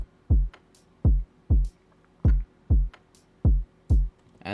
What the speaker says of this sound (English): Drums. It plays in a pattern like this.